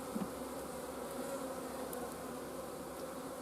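A dense swarm of bees hums inside a hive in January, a steady, continuous drone, close by and unbroken, with no voices.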